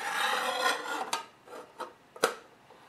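A 10-inch TCT blade slid onto the bushing of a sliding miter saw, giving soft metallic scraping and rubbing followed by a few sharp close clinks, with no one talking.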